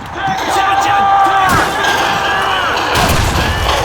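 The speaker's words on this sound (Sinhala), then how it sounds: "බෝම්බනේ" Loud bomb blasts and heavy thuds in a Call of Duty mission, with booming impacts near the start and again toward the end over game noise and a talking player.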